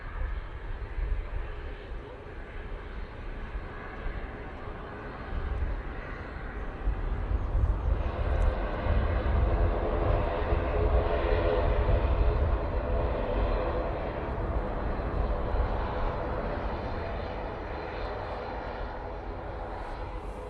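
An airliner landing at Manchester Airport, a broad, steady jet roar that swells toward the middle and then eases, heard from a distance with wind rumble and occasional voices in the background.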